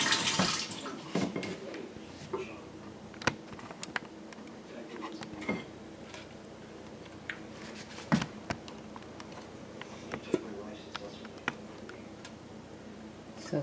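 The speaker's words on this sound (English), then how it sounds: "You can use a little water here to wash it off." Water running and splashing while soap residue is rinsed off during handmade unscented olive oil soap making, with scattered clicks and knocks of handling at a sink, fairly quiet and steady throughout.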